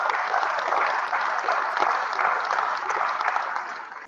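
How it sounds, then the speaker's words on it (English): Warm applause from an audience at the Pro Football Hall of Fame in Canton, Ohio, a steady bed of clapping at moderate level that holds evenly throughout. "Little one last big round of applause."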